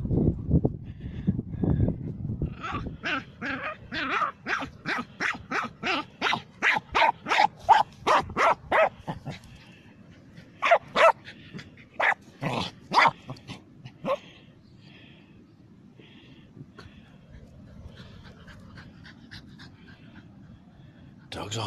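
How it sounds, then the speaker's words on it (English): A dog on coastal rocks at Crackington Haven, North Cornwall, barks and pants excitedly in quick rhythmic bursts, close and loud, trailing off into softer panting, with a voice briefly heard near the start. "Dog's off his head, Lee."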